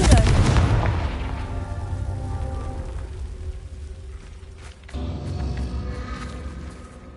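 A Confringo fire spell bursts in Hogwarts Legacy, a loud booming blast at the start that rumbles and decays over several seconds, followed by a second swell of crackling impact noise near the end.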